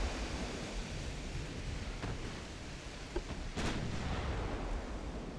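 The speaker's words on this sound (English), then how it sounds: "I need to try and keep shelling Principe Alfonso" Naval artillery shelling in Ultimate Admiral: Dreadnoughts, with a few distant, muffled gun reports rising out of a steady wash of sea and battle noise.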